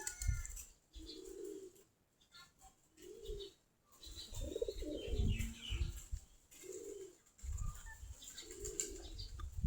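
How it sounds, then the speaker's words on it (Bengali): Native desi Giribaz domestic pigeons coo in the morning while feeding, several low, throaty coos repeating in short bursts, with occasional wing flaps and rustling close by. "কবুতরগুলা সকালবেলা খাবার খাচ্ছে।"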